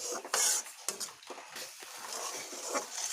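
Banana stem and potato pieces stirred in a pan, a metal spatula scraping and clinking against the pan in irregular bursts over a light sizzle, close and fairly loud, no talking.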